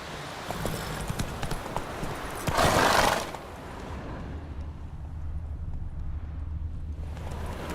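Horse hooves clip-clop at a gallop in The Witcher 3, a steady run of hoofbeats under game ambience, with a louder, brighter rushing burst partway through before the pace settles back to low background.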